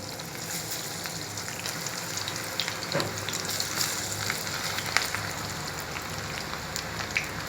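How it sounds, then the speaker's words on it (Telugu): Onion pakoda bubbling and sizzling in hot oil, a steady dense crackle with scattered sharper pops, close and continuous with no voices. "ఇప్పుడు బాగా ఉడికిపోతుంది కదా ఇది ఉల్లిగడ్డ పకోడీ"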